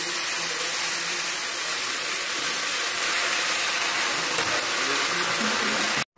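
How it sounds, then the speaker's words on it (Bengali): Hot spice tempering poured into a pot of Malabar spinach with pumpkin and shrimp, a loud, steady sizzle and hiss that holds for several seconds and then cuts off abruptly. "এই তো আমি বাগার দিলাম"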